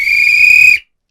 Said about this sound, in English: So, hit that kickoff whistle, Edgar, and we're gonna get ready to go.